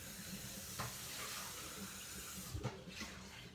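Bread toasting in a pan on a stovetop set just below high gives a steady, soft sizzling hiss, with a couple of faint clinks near the end.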